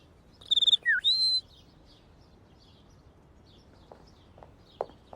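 A Family Guy cartoon character whistles imitation bird calls, a quick run of high chirping tweets and swooping whistles near the start, then quiet with a few faint clicks.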